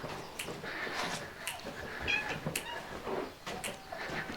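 Several cats meow repeatedly at a farm around feeding time, short overlapping calls at moderate distance over steady outdoor background noise.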